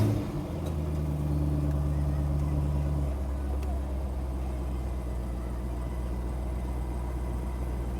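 A 175,000-mile Chevrolet Corvette C5 Z06 fires up and drops into a steady, low idle, its rumble holding close and even throughout.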